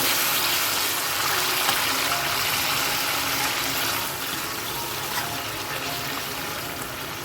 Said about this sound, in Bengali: এই বাটিটারই হাফ বাটি পরিমাপে জল আমি দিয়ে দিলাম